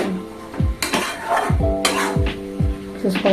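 Goat meat stirred and fried in a pot for a Bengali home-cooked curry, with a spoon scraping and clanking against the metal in repeated strokes over a low sizzle, close and fairly loud.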